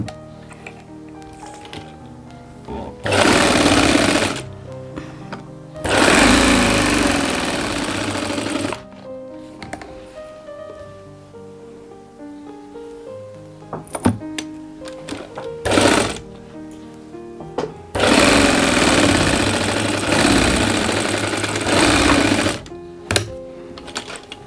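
Sewing machine stitching the side seam of a men's kurta pajama, running in a few loud bursts of rapid whirring with quieter handling and clicks between them, up close, no talk.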